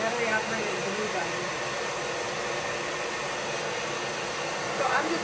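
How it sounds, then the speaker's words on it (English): A hair dryer blows hot air over a sparkly patriotic craft gnome, a steady close whooshing hiss that runs unbroken for the whole stretch with no talk over it. "So I'm just hitting this with some heat from my hair dryer and getting it really dry before I go to the next step."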